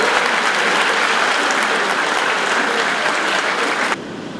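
Audience applause for Nobel Peace laureate Jody Williams at Universidad César Vallejo, a dense, steady wash of clapping from a large crowd that cuts off abruptly near the end, leaving a quieter room tone.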